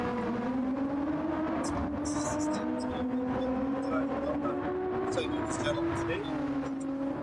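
A race car engine drones steadily through a lap in the video game Gran Turismo 7, its pitch rising and falling gently with gear changes, heard at moderate level beneath commentators' talk.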